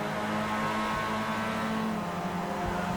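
A Formula race car at Montreal with a possible fault, maybe stuck in neutral, holds a steady loud engine drone with no talk over it.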